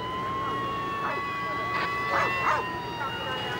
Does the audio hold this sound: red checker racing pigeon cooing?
no